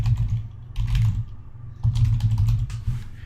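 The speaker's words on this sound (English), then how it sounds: "I can choose a keyword in here and type it in here" Computer keyboard keys tapped in two quick bursts of close, crisp clicks with a short pause between, no voices.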